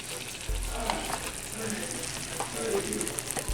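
Shrimp stir fry with rice sizzles on low heat in a pan, with a steady frying hiss and occasional scraping stirs, close by and moderately loud.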